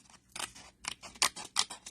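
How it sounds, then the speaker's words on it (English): Scissors fussy cut a paper piece for a card, a series of crisp close snips in an uneven rhythm, about seven cuts with short pauses between them. "we're just going to fussy cut this out"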